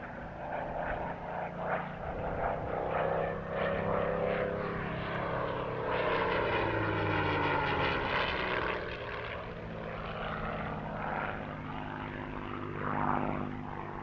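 A Supermarine Spitfire 9 propeller fighter flies past at an airshow, its piston engine droning loud and steady as the pitch swells and then falls with the passing, with no voices.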